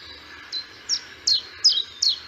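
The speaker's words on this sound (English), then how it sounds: "So the first one is Chiff Chaff." A common chiffchaff sings outdoors in Essex, repeating five clear, evenly spaced two-tone chirps, bright and fairly close over a quiet background.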